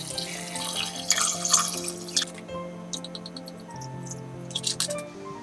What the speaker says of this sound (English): Add 10 cups water and 1 cup white wine.